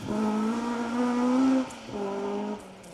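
A 4WD rally car brakes hard into a downhill hairpin on a forest stage, its engine note falling in a sustained whine, pausing briefly, then droning again as it downshifts, heard at moderate distance.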